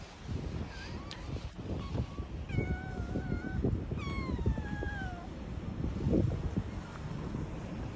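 A pet cat meows repeatedly with rising and falling cries, some drawn out into plaintive wails, heard close over rustling and light wind noise outdoors near a walking track in Japan.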